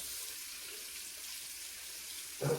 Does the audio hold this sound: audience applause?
no